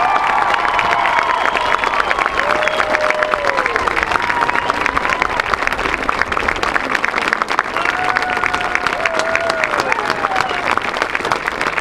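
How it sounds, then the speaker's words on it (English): Dense, sustained applause and cheering from a concert audience for the musicians at Racine, loud and close, with a few whistles and shouts riding over the clapping throughout. "how about one final applause for all of these terrific musicians"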